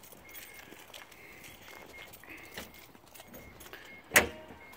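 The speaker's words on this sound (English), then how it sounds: "Alright, we'll go and lay that hood down nice and gently." An aftermarket hood on a Mazda RX7 FD is lowered shut, landing as a single short, solid thud near the end after quiet, faint background ambience.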